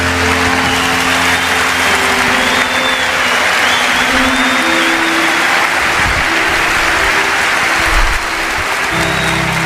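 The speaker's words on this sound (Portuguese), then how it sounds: "Uma salva de palmas por esses missionários." Sustained, loud applause from a church congregation welcoming visiting missionaries from the United States, dense steady clapping filling the hall for nearly ten seconds.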